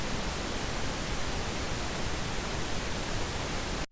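Steady, loud broadband hiss of noise synthesized in SuperCollider, constant throughout and cutting off abruptly at the very end.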